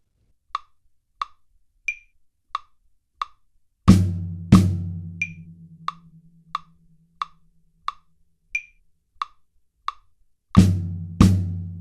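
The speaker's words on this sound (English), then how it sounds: "we're just going to hit the snare drum and the floor tom as double stops" A steady metronome ticks throughout. Two pairs of loud snare and floor tom hits strike together and ring out, with a long pause between the pairs.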